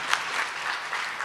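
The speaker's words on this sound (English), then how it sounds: "give him a round of applause as well" Short burst of audience applause at a day-one reflections session, steady dense clapping from a room of people.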